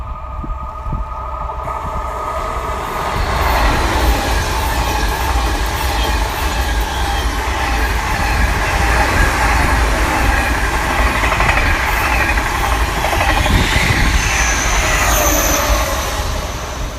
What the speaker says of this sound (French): une boureuse qui passe, train de travaux